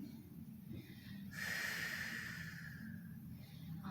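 A single slow, audible breath, a soft airy exhale drawn out over a couple of seconds, taken while holding a twisting yoga pose in a quiet room.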